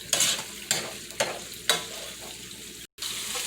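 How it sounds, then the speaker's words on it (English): Shallots sizzle in a hot pan, with several scraping stirs at intervals and a brief dropout near the end; no talking. "the shallots are frying up"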